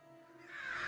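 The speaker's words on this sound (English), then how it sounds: "the crows shriek excitedly" Crows caw, rising in a short, harsh burst that grows louder and excited toward the end, heard alone at moderate distance.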